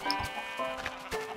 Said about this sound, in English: Got sheep in here, which eat the grass and regrow their wool.